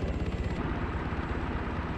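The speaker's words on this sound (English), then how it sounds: "This artistic representation shows a helicopter more aerodynamic and with superior performance than the previous MH-60." Steady rotor thump and turbine roar of a military helicopter, an advanced MH-60 successor flying in the ARMA 3 video game, loud and continuous throughout with no speech.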